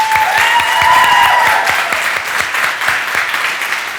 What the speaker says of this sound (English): Je veux que vous vous donnez une bonne main d'applaudissement, public.